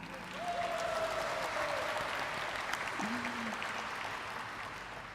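Steady, sustained applause fills the room at the listing ceremony of Ecos (India) Mobility & Hospitality Limited, while a voice speaks briefly over the clapping.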